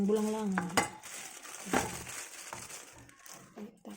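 Okra being mixed into a pot of vegetable stew in a home kitchen, with scraping and clinking of a utensil against the pot, wet stirring and soft sizzling in short irregular bursts, close and moderately loud.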